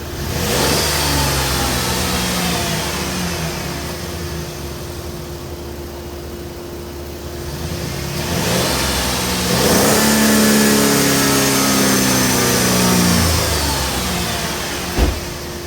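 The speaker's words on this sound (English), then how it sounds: "I'll get in there and I'll hit the gas" A car engine revs hard as the throttle is pressed, rising and falling in a loud, close roar, with a second strong rev building after a brief dip.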